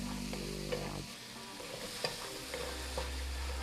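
Ingredients for a homemade pasta sauce fry steadily in a pan, with a continuous sizzle and occasional stirring scrapes and clinks, close and moderately loud, with no talking.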